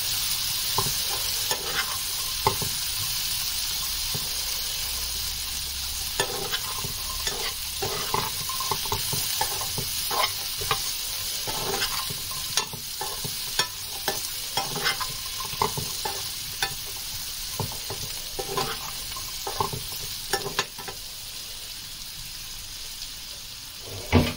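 Chickpeas and spices cook in a pan over a low flame for chana pakori chaat, a continuous soft sizzle broken by frequent scraping stirs and clinks, close and steady throughout with no voices.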